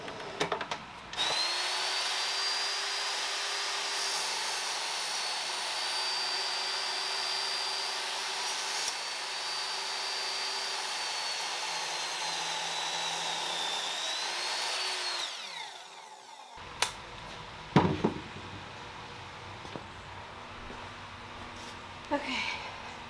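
A power tool cuts and sands the base of a metal file cabinet, a steady loud whine holding for about fifteen seconds, then stopping, followed by scattered knocks and handling sounds.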